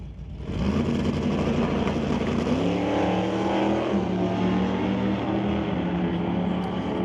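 Drag racing cars at a Pro ET bracket race launch side by side down the strip, a loud sustained engine roar rising in pitch and holding steady throughout, with no voices.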